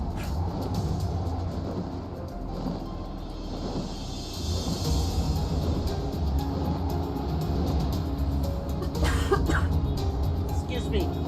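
During a Final Fantasy XIV crafting and gathering session, a person coughs and clears their throat. The coughs come as scattered bursts over a low, constant rumble, with a sharper cluster near the end.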